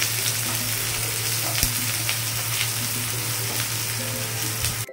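Chopped onions fry in hot oil in a pan for a Bengali rui fish and brinjal tel chochori, a steady close sizzle with a constant low hum beneath and a few soft clicks.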